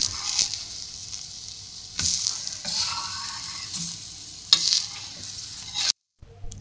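Besan (gram flour) batter roti cooking over medium heat on an oiled griddle, giving a steady soft sizzle broken by a few louder scraping or stirring bursts, with no talking.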